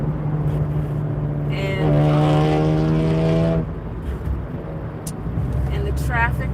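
City road traffic heard from inside a moving car at about 48 mph, with a steady engine and road rumble, a louder passing vehicle swelling in the middle, and a person talking over it.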